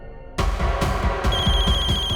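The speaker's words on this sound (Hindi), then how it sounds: "तुम्हारा फोन" A telephone rings repeatedly with an electronic trilling bell, loud and close, with a low thumping pulse underneath and no talking.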